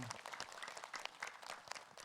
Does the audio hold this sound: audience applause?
yes